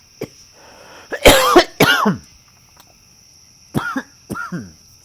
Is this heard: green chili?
no